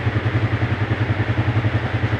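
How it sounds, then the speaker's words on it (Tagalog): A motorcycle engine idles steadily at close range during troubleshooting, a loud, even low-pitched putter with a regular pulsing beat and no voices. "hindi nababago yung tunog ng motor"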